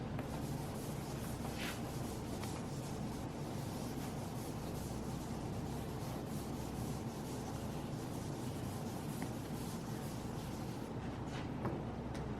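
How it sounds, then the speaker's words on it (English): Steady close rubbing of an eraser wiping writing off a board, a continuous scrubbing hiss that goes on without a break. "I'm going to erase some of this."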